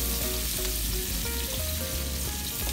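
A salmon steak sizzles in hot oil in a pan over medium heat, a steady, dense, close frying hiss throughout with faint music underneath.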